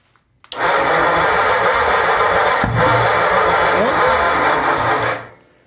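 A barn-find Ford flathead V8 cranks with choke applied, a loud steady churning starter drone lasting about five seconds, one brief catch near the middle, then stopping abruptly.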